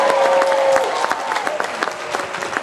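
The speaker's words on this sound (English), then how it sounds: "Everyone cheer Bob!" Crowd at a folk festival circus show applauding and cheering for a judge named Bob, a dense burst of clapping and cheers that stays steady, then thins slightly toward the end.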